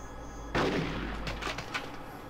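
Gunfire in the video game Conker's Bad Fur Day: a loud burst of shots breaks out abruptly, followed by a few quieter repeated cracks over steady background game noise.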